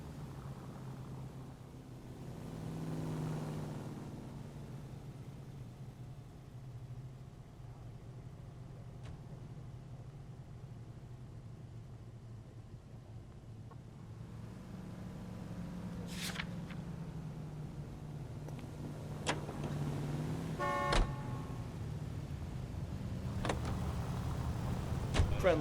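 A car cruises through a game version of 1940s Los Angeles on a traffic desk case, with a steady low engine hum throughout, a brief rise early on and a few clicks and short mechanical sounds near the end.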